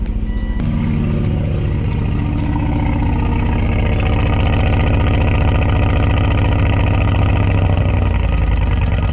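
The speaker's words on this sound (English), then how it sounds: "So this exhaust is aftermarket. It's a Borla muffler." A Volvo S60R engine idles loudly and close through a throaty aftermarket Borla muffler, with a rapid steady pulsing and a slight rise in revs near the end.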